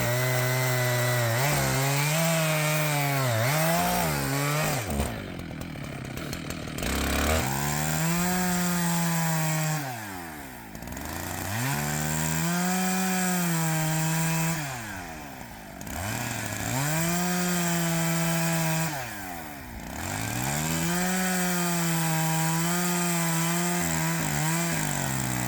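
A loud chainsaw cuts firewood logs into sections in Alaska, its pitch rising and falling as it bogs down in the cut, with a few brief pauses between passes.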